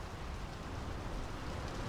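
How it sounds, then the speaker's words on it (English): Steady rain in the video game Draugen, a continuous even hiss of falling water that holds at the same level throughout with no voices. "The rain's picking up."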